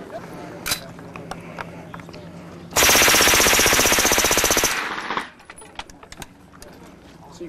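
A machine gun fires a single sustained burst of rapid, evenly spaced shots lasting over two seconds, loud and close, with quieter scattered clicks and handling noises before and after.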